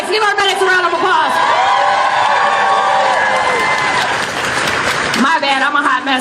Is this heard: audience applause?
yes